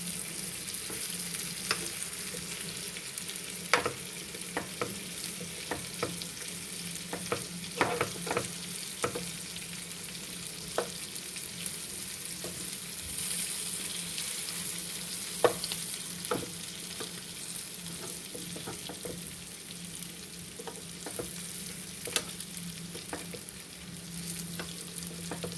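Stuffed bitter gourd (kakarakaya) frying in a covered pan, giving a steady low sizzle and bubbling with scattered soft clicks of gentle stirring and turning, moderately close and continuous with no talking.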